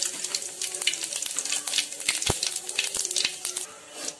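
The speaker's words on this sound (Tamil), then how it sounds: "கடாயில கொஞ்சம் எண்ணெய் ஊத்தி எண்ணெய் காஞ்சப்போ ஜீரகம் சேர்த்துக்கறேன்." Cumin seeds sizzle and crackle in hot oil in a kadai, a steady dense frying hiss with scattered sharp pops and a few light stirring knocks, heard close and alone.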